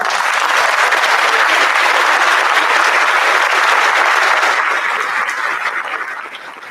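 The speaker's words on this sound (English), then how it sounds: "Now let's give these inductees a round of applause." Loud, dense applause from an audience at a 2021 National Honor Society induction ceremony fills the room for new inductees, holding steady before tapering off near the end.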